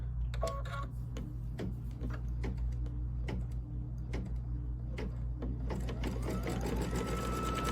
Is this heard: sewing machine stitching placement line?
yes